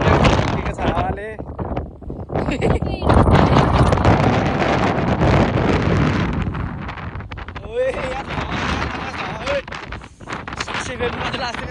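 Strong coastal wind at Tintagel Castle in England buffets the microphone in loud, continuous gusts, with people talking over it throughout.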